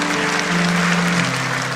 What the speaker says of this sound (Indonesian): kasih tepuk tangan untuk Roh Kudus